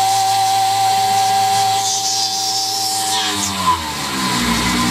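A milling machine spindle at 6500 RPM takes a half-inch-deep cut at 12 inches a minute, a loud, close, continuous whine with strong harmonic tones that slide downward near the end as the motor slows.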